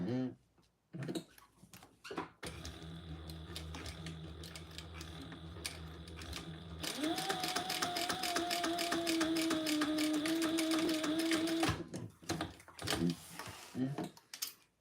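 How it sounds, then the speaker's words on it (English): A sewing machine stitching a crossbody bag runs in a steady whirring burst of about five seconds. Brief clicks and handling noises come before and after it, with a voice talking around the stitching. "Now we're going to sew just 1/8 of an inch up from that line to the top."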